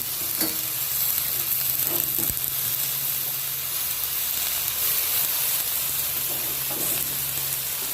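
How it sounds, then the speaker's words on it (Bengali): Spinach tossed into mixed vegetables in a home kitchen pan sizzles with a steady, close frying hiss, broken by occasional stirring scrapes and clacks, no voices. "এবার আমি পালং শাকগুলো দিয়ে দিচ্ছি সবজির মধ্যে"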